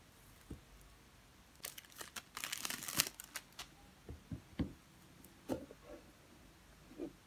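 A Lattafa Khamrah perfume box is unboxed, with close crinkling, rustling packaging and a burst of papery tearing and crumpling, followed by scattered soft taps and handling noises in a quiet room.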